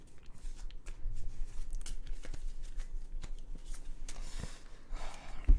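Cards are shuffled repeatedly, a rapid run of papery riffles and flicks, close by and fairly quiet, with no talking.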